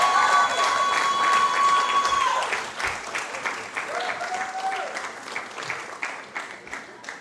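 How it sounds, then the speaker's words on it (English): An audience at a Grenada Rotaract Club awards ceremony applauds a first-place winner, a dense sustained clapping that tapers off into scattered claps after a few seconds. "Give a big round of applause to Miss Kaylee Chow."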